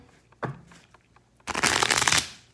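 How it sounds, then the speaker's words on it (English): A deck of cards is riffled once in a loud, fluttering burst, preceded by a few soft handling taps. "So I'm gonna go ahead and shuffle the cards."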